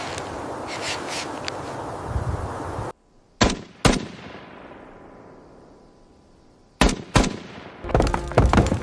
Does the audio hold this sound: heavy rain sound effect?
no